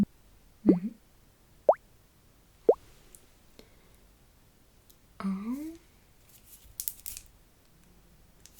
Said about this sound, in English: Three sounds, bubbly sounds.